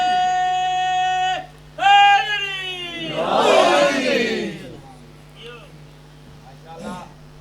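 At a religious majlis, a crowd roars a slogan in unison after a man's amplified sung call, one loud collective shout followed by fading voices.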